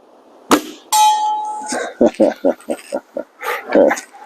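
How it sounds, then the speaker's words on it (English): A sharp metallic ping rings out with a lingering tone as an air rifle pellet hits a small steel bell, followed by a series of short thuds and clanks in uneven rhythm. "I made a new bell, and it's a little smaller than the big one"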